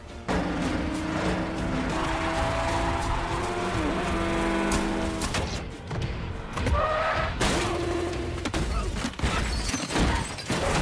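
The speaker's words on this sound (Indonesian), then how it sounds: "kebut-kebutan jalan raya ditampilkan di sini" A highway car chase from a John Wick action film, with roaring engines, tire noise and sharp impact thumps in a dense, loud, continuous mix.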